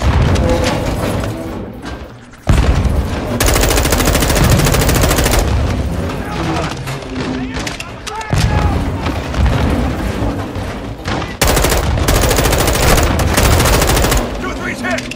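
Sustained gunfire and grenade launches in the Modern Warfare II video game, loud and dense bursts of shots and booms nearly throughout, with brief lulls and voices shouting amid the battle.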